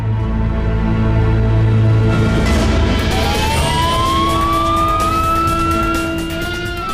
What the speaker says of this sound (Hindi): देखिए पुलिस की गाड़ी